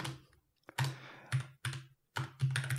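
Someone types text into a document in LibreOffice on a Linux computer, with short bursts of close, crisp key clicks on a keyboard separated by brief silent pauses and no voices.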